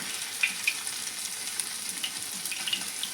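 Chicken keema balls frying in hot oil over a low to medium flame give a steady, close crackling sizzle with scattered small pops, carrying on evenly with nobody speaking.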